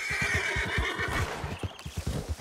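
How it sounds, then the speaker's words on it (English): Horse in Red Dead Redemption 2 gives a loud whinny over rapid, steady galloping hoofbeats that thud close by and keep a quick rhythm throughout. "Oh my god, the horse took off quickly."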